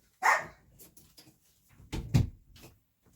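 An excitable dog barks indoors at visitors near a door: one sharp bark, a quiet gap, then two or three quick barks close together, all close by with no talking.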